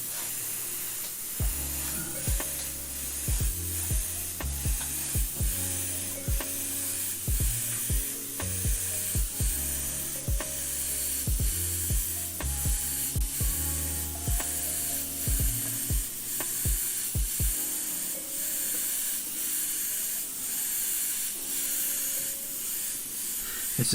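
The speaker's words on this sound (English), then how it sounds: "I'm spraying quite far away to get a large spray pattern, which of course generates a ton of overspray" Paint hisses steadily from a spray gun held far from the surface, giving a wide pattern with heavy overspray, broken by regular clicks from the trigger or mechanism that fade toward the end.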